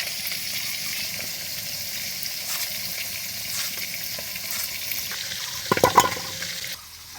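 Bata fish fry in hot oil in a home kitchen pan for a sour fish curry, a steady close sizzle running throughout with a brief louder crackle near the end before it drops quieter.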